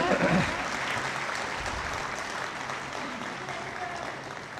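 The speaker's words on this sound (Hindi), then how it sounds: "इनके सम्मान में एक बार आप लोग ताली बजा दें" An audience at a Hindi comic poetry gathering breaks into applause, a dense, steady wash of clapping that holds for several seconds at moderate loudness, with a brief voice near the start.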